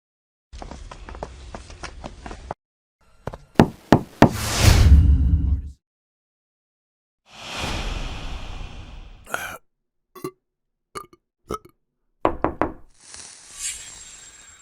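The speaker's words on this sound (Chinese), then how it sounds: "我来敲门。" Sharp knocks rap on a door in short bursts separated by pauses, with some rustling and shuffling noise in between.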